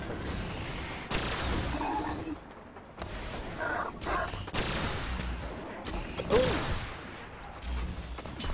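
Gunfire in the shooter Destiny on PS3, several muffled bursts of shots at moderate distance, mixed with game ambience and a faint voice.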